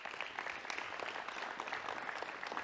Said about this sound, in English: I give them a clap.